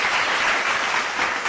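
A crowd applauding to welcome a guest on a podcast, a steady, dense wash of clapping that fills the whole moment without pause.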